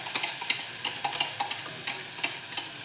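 Masala paste with chilli powder stirred and fried in a pan for tomato bath, with scraping ladle strokes and crackling sizzles in an irregular rhythm, close and moderately quiet.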